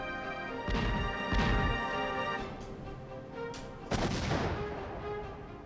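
Explosion in the Superman 64 video game: a few sharp, booming bursts heard fairly faintly, two close together early, then another heavier blast with a scattering tail, over a constant game background tone.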